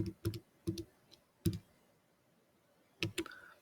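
Calculator keys are pressed in short clusters of sharp, quiet clicks with pauses between presses while working out a right triangle problem, close up and with no speech.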